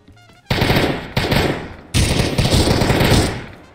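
Loud, dense bursts of gunfire from shotguns in the Roblox game Apocalypse Rising 2: three sustained volleys of rapid blasts close up, each cutting in abruptly after a quiet lead-in, with no talk over them.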